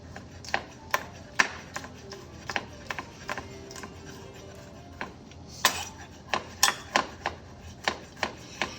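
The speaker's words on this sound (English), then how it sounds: "we're gonna chop that pickle pretty fine." A knife finely chops a dill pickle on a cutting board, making close, sharp taps that come in scattered bursts and then settle into a quicker, even rhythm.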